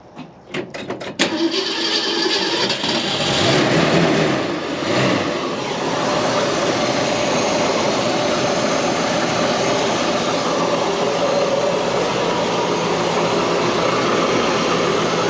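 A 1966 Ford Mustang engine cranks with a few rapid clicks, then catches and settles into a loud, steady idle that runs on evenly and close by.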